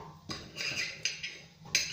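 Knife chopping cucumber on a cutting board before it goes into a blender for a health drink: a few quick, fairly close knocks with a sharp clatter, separated by short gaps.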